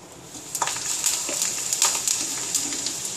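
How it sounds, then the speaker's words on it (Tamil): Sun-dried cluster beans roast in a hot pan, a continuous close sizzle and crackle with scattered sharp pops and light scraping, heard alone without speech. "கொத்தவரங்காய் வத்தல் கருகாமல் இப்படி செவக்க வறுத்து எடுக்கணும்."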